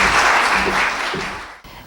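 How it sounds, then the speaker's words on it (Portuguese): A seminar audience in Portugal gives a short burst of applause for a speaker being introduced, a close, dense clapping wash that fades and cuts off abruptly near the end. "Um aplauso."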